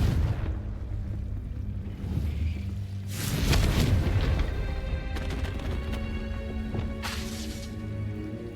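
A Confringo fire spell blasting in Hogwarts Legacy, a booming burst with crackling fiery tail around the middle and a sharper hit later, over a steady low game soundscape.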